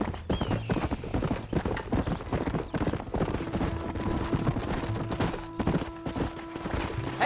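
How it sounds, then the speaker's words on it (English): A horse ridden hard in the Western video game Red Dead Redemption: steady, rapid clip-clop of hooves at a gallop, continuous and fairly loud, with game music and faint voices underneath. "I'm not used to riding this hard, Paul."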